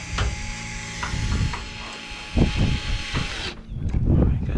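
A power drill drives bolts into a Homelite chainsaw during a carburetor repair, with several short whirring bursts and clicks close by, separated by handling clatter.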